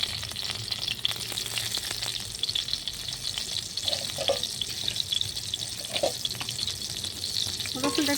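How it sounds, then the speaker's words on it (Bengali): Crushed garlic fries in oil in a pan, a dense, steady sizzle with a low hum underneath, scattered stirring clicks and brief splashy bursts, no one talking. "রসুনটা একটু ভাজা করে নেব।"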